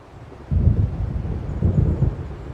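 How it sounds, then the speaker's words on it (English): In the video game Alan Wake, low thunder from an approaching storm rolls in two heavy rumbling swells, loud and close, with no talking. "It seems there's a storm coming."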